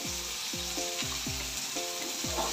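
Onion and chili frying in a pan with a pinch of salt, a steady sizzle broken by a few short tonal clinks or scrapes repeating about every half second. No voices.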